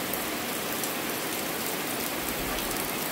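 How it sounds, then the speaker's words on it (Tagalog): Steady morning rain pours down in a continuous, even hiss of drops hitting surfaces, close and unbroken for the whole stretch, with no voices over it. "Na, ulan na umaga guys."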